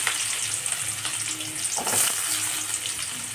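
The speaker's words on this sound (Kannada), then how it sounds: "ಈಗ ನೋಡಿರಿ ಫ್ರೈಡ್ ರೈಸ್ ಮಾಡತ್ತೀನಿ ಈಗ ಬೆಳ್ಳುಳ್ಳಿ ಶುಂಠಿ ಹಾಕೀನಿ ಫ್ರೈ ಆಗ್ಯಾವು" Garlic and ginger sizzle steadily in hot oil in a pan as the base for fried rice, a close, continuous frying crackle with a brief stir partway through.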